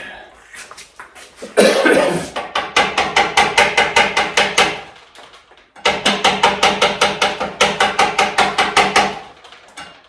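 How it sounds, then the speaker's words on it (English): Rubber mallet lightly tapping a tight part on a 2007 Trek Madone SL 5.2 bicycle, two close runs of rapid regular knocks of about a dozen each, separated by a short pause. "This one's on there pretty tight, so I'm gonna have to do a little light tapping."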